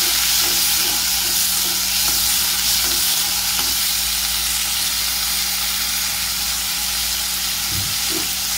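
Peas and cauliflower cook in a pan with a loud, unbroken sizzling hiss like steady steam, close by and without talk.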